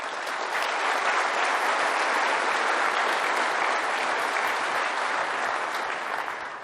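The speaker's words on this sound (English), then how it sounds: "Can you go ahead and give a round of applause to all of our sponsors?" Steady, dense applause from a large conference audience, sustained at full strength throughout with no voices standing out.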